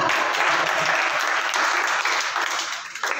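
Dense, loud applause from a crowd at a Hindi literary poetry evening after a couplet recital, sustained and even, then tapering slightly at the end.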